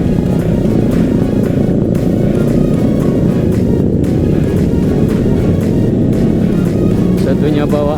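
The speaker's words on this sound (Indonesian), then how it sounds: "Satunya bawa Aerox, satunya bawa motor Suzuki Gigi." Yamaha Aerox scooter and a Suzuki motorcycle riding together on a road, engines droning loud and steady throughout with continuous wind and road noise.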